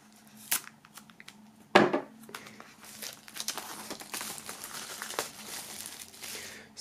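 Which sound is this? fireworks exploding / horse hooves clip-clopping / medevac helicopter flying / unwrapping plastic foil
unwrapping plastic foil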